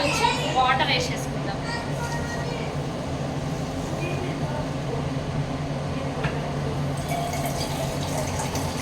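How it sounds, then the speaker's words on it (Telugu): Water runs steadily into two bowls of sugar in a kadai to make gulab jamun syrup, a continuous close pouring rush lasting several seconds. "ఆ పాకం నికాలుగా అయ్యే వరకు కొంచెం వాటర్ వేసేసుకుందాం."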